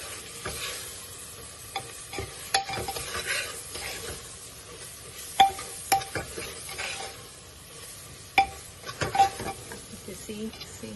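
Ginger garlic paste frying in masala for chana batata, with a spoon stirring and scraping the pan over a steady low sizzle and scattered sharp clinks against the metal.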